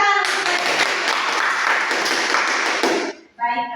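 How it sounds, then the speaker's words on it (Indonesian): Students in a maths lesson clapping their hands together, a dense burst of applause lasting about three seconds, loud and close, followed by a voice speaking. "tepuk tangan"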